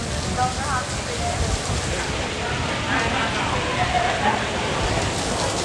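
Steady, dense hiss of rain falling on surfaces at a theme park, continuous and fairly loud throughout, with faint voices murmuring underneath.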